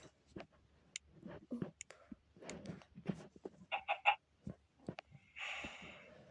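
Rooster clucking in a Minecraft game, several short close clucks and squawks scattered through a quiet stretch, ending in a brief burst of noise.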